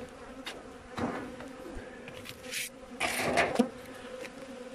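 Honeybees buzzing at an opened hive in an apiary, a continuous close drone with swells as bees pass near, plus a few handling knocks and rustles.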